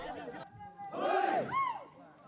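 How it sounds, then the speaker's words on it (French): Large crowd at a Naga ritual hauling a giant wooden drum with vines, heard as loud collective chanting and shouting voices rising and falling in unison, swelling to a strong peak in the middle before fading. "la foule le pousse, le tire et le hisse à l'aide d'un réseau complexe de lianes"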